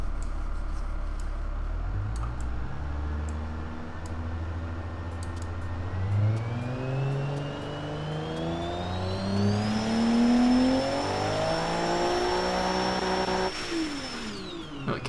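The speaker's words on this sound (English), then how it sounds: "Let's make sure that that turbo is going to be working properly." A turbocharged inline-six car engine in the game Automation idles low, then revs up steadily through rising pitch, holds high near the limiter, and drops off abruptly, heard alone and fairly close.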